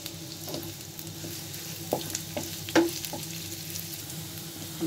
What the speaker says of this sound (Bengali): আমি পেঁয়াজগুলো ভেজে নিচ্ছি।